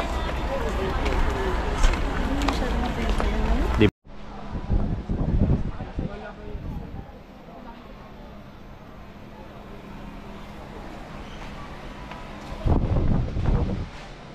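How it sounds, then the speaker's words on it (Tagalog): Strong wind buffets the microphone in low rumbling gusts, with voices talking and a brief cut partway through. "Lakas ng hangin."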